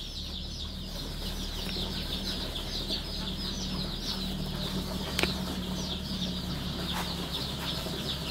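A crowd of week-old pure desi chicks in a round enclosure keeps up a continuous, dense chorus of high-pitched peeping, close by and steady, with a faint low hum underneath and an occasional small knock.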